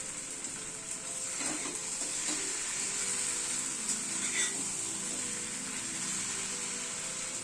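Eggs going into a vegetable curry in a pan, a continuous moderate sizzle with light stirring scrapes over steady background hiss.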